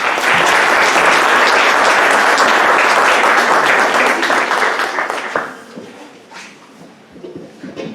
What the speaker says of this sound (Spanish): un fuerte aplauso para todos porque todos somos unos genios.